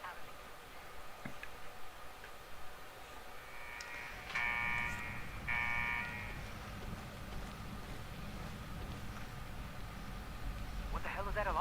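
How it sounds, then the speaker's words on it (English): A blaring alarm in Fallout sounds in two short bursts over steady game ambience and background noise, loud and near, with a rising tone near the end. "What the hell is that alarm? What's that noise?"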